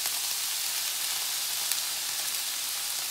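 Meat and onions frying in oil in a pan, a steady, even sizzle crackling continuously at close range with no talking.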